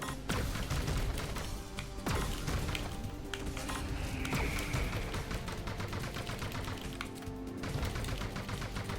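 Rapid, continuous gunfire from Panzer Dragoon on the Sega Saturn, with dense bursts of shots and impacts filling the whole stretch at steady volume, over synth music and without any speech.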